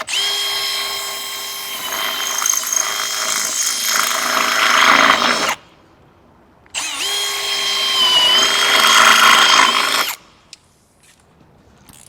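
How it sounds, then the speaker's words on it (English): A power drill whines as it bores into the pillar of a 2020-or-later Mazda BT50 for a snorkel install, running loud and steady in two long bursts with a short pause and a brief stop between them. "When you're drilling the pillar, always make sure you're bracing"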